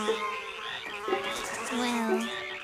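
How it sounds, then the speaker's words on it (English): Frogs croak at night in a cartoon, giving a steady chorus of overlapping, warbling calls that stays moderately loud and continuous throughout. "Oh, the frogs."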